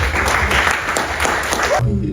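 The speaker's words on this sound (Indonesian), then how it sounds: "Tepuk tangan dong." An audience at a seminar applauding: a dense, continuous patter of many hands clapping together, fairly close, stopping abruptly near the end.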